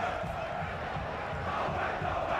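A large crowd cheers and roars steadily in a stadium at a school track and field championship relay, a continuous, fairly distant wash of voices that holds level throughout.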